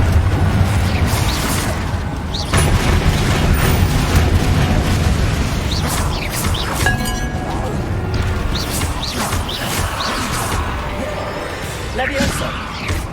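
A Confringo spell blasts in Hogwarts Legacy, with a loud rumbling explosion and crashing debris over dense game action and other effects. A voice can be heard under the noise.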